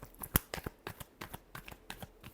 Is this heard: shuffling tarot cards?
yes